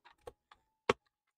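A few sparse keystrokes sound on a Womier V-K66 65% mechanical keyboard, four separate clicky taps, quiet and close, with silence between them.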